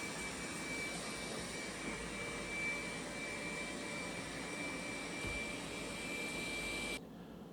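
A Dreame Z10 Pro robot vacuum runs on carpet, making a steady, close, whirring drone with a faint high whine that holds evenly, then cuts off abruptly near the end.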